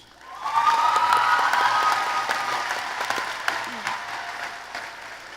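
Audience applause at a high school graduation commencement ceremony welcoming a speaker, a dense, loud wash of clapping that swells quickly and then slowly fades.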